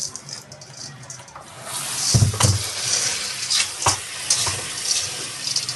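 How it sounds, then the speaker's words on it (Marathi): Dal (lentils) being rinsed in water under a running tap while preparing puran poli, a steady splashing trickle that grows fuller and louder partway through, with no talking. "डाळ स्वच्छ धुवून घेऊयात"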